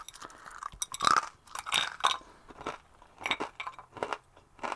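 Crunchy toast being chewed up close, with a run of crisp, crackling crunches in uneven bursts and short pauses between bites; no talking.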